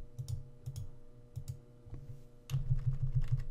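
Button presses on a calculator while entering numbers for an algebra problem, a quiet run of quick, close clicks in short bursts with brief pauses between them.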